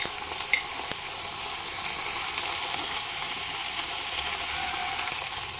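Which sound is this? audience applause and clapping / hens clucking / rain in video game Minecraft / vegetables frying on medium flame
vegetables frying on medium flame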